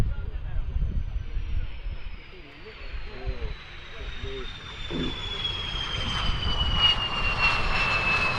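An aircraft at the Farnborough International Air Show 2024 flies downwind to land, its steady engine drone holding throughout while a voice speaks faintly beneath it.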